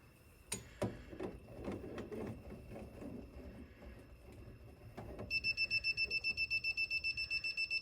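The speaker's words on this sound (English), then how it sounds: "No more beeping." An alarm near a circuit breaker panel sends out rapid, regular electronic beeps, close and clear after footsteps and handling knocks.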